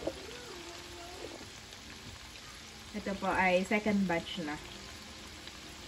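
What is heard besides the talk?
tofu frying in oil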